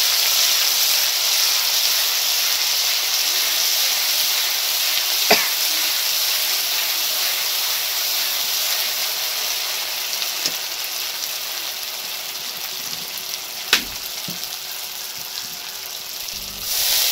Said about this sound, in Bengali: এবারে দেখো তেলে দিয়ে দিলাম সর্ষে ফোড়ন, তারপরে দিয়ে দিলাম সর্ষে, পোস্ত আর কাঁচা লঙ্কা বাটাটা।